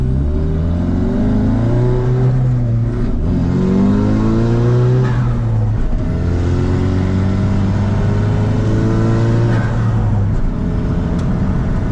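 A car engine revs hard and repeatedly, rising and falling in pitch through several loud surges, with a whirring turbo note over the roar.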